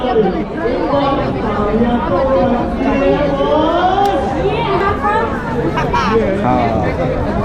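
Dense crowd chatter fills a busy outdoor Indian food festival in Canada lined with food stalls, a steady babble of many overlapping voices close and far, with nearer speakers occasionally standing out.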